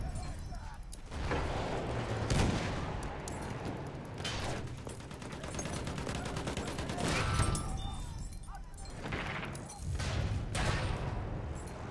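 Battlefield 1 battle on the River Somme with a landship: sustained rattling machine-gun fire and scattered gunshots over constant battle noise, with shouted voices mixed in.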